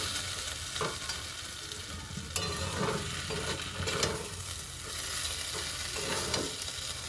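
Pointed gourd and peanuts are stirred in a pan over steady frying heat, with a close, constant sizzle broken by repeated spatula scrapes and light knocks against the pan. It is moderately quiet and has no voices.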